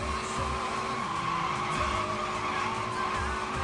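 Toyota Levin AE85 braking in the arcade racing game Initial D Arcade Stage Ver. 3, a sustained tire squeal and skid over a droning engine, steady and fairly loud.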